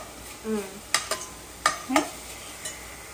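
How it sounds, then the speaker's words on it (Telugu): Tamarind leaves and onions cooking in a pan for an egg curry, with a few sharp scraping stirs and light clatter over a soft, faint background sizzle, no talking. "కొంచెం ఉల్లిపాయ లైట్గా వేగాక ఇందులో నేను చింతకూర వేసి వండుతున్నాను"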